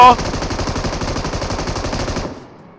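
A loud, rapid burst of machine gun fire in the video game PUBG Mobile, dozens of shots in quick succession lasting about two seconds before cutting off.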